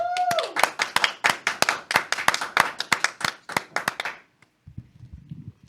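A small group claps to welcome the opening segment of a faith talk show, a couple dozen close, distinct claps in an uneven rhythm that taper off, followed by a quiet low rumble.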